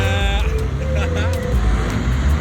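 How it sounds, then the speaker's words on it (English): Soviet cars drifting, heard as loud engine noise from square, cheap rear-wheel-drive cars with a rising revving tone and rumbling road noise, under a person talking. "Soviet drifting at its finest"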